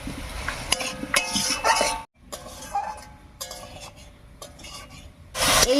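Tomato stirred with fried spices in an oily pan for a vegetarian potato and eggplant curry, giving scraping spoon strokes and metallic clinks over a soft sizzle, with a brief pause midway and a louder burst of clatter at the end.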